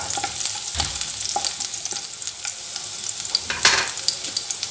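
Onions sautéing in a pan for vegetable fried rice: a loud, close, steady sizzle broken by repeated ladle knocks and scraping stirs, one louder clatter near the end, no speech.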